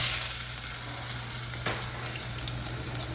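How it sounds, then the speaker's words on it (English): Onions hit a little oil in a pot and sizzle steadily, a soft continuous hiss of frying with a low hum in the background and no talking. "In this pot, I have a little bit of oil, and I'm going to add some onions."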